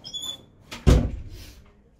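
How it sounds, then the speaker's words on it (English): A door swings shut with a single solid thud after faint rustling, heard up close indoors in a home kitchen as cooking begins, followed by a brief fading rattle. "We close the door."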